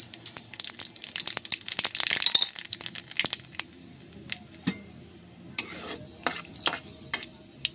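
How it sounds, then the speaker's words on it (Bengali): Dried red chillies and nigella seeds fry in hot oil in a pan for a Bengali rohu fish curry, with soft sizzling, scattered crackles and the scrape and tap of a spatula stirring. "এখন দিয়ে দেব আমরা শুকনো লঙ্কা আর দেব কালো জিরে।"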